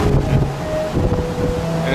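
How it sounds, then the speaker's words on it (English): Strong wind on a cruise ship at sea buffets the microphone over a low, rolling rumble of waves up to 20 feet, loud and continuous. "It's a windy day."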